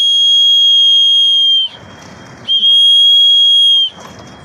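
A loud, piercing whistle sounds twice as a signal to come down, each blast held steadily for over a second, with a brief gap of background noise between them.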